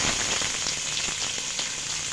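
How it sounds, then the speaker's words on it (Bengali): Chopped onions sizzle and fry steadily in hot oil for chicken bhuna khichdi, a close, dense crackle with faint stirring scrapes and no talk. "পেঁয়াজটাকে ভালোভাবে ভেজে নিচ্ছি।"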